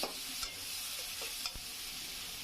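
Malabar spinach tossed and stirred into prawns frying in a pan, a steady sizzle with a few soft scraping strokes of the spatula, close and alone.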